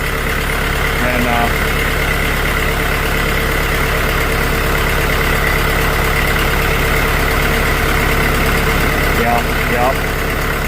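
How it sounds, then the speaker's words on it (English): A Farmall MD tractor engine idles steadily and loudly throughout, a continuous low rumble with a faint voice occasionally audible underneath. "Got the Farmall MD just a running"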